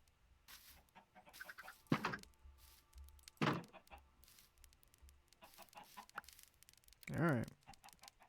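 Chickens cluck in short separate bursts from a farming and building video game, with a few louder squawks standing out over quiet background game sounds and soft thuds.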